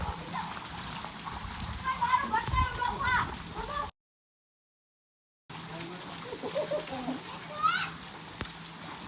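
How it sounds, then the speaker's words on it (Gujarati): People talk and call out over splashing water and falling rain, with a short stretch of silence midway. "પાણી ઉડાડવી છે હાલો પાણી ઉડાડો"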